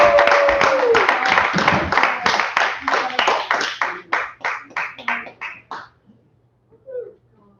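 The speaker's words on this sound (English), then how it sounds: "How about some applause for all 3 performers?" Audience applause for three performers at a live marsh performance evening, a dense burst of many hands clapping that gradually thins into scattered individual claps and fades out, with a faint squeal near the start.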